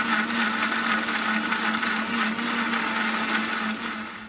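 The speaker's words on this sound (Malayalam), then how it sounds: "ഇതൊന്ന് മിക്സിയിൽ അടിച്ചെടുക്കാം" A mixer grinder whirs loudly and steadily at high speed grinding masala spices, a constant motor drone with a rattling edge, easing slightly at the end.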